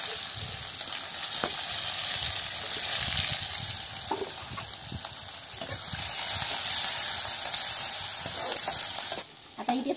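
Onion, garlic and chili sizzle steadily in a pan over a village-style wood-fired chulha, with mustard seeds already popped, for cluster bean bhaji. A continuous close frying hiss runs throughout with small crackles and pops, and no voices.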